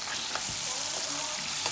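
Cherry tomatoes cooking in a pan for a creamy farfalle dish, giving a steady, fairly soft frying sizzle with a few light stirring sounds.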